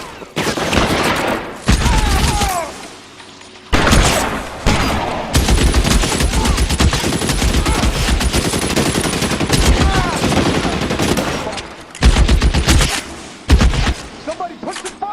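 Bursts of automatic gunfire and rapid single shots in a video game shootout in LA Noire, loud and close, with short pauses between volleys and voices shouting under the shots.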